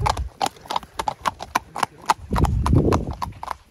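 Horse hooves clip-clop in a quick, uneven rhythm on a hard road, fairly close, with a brief rumble near the end.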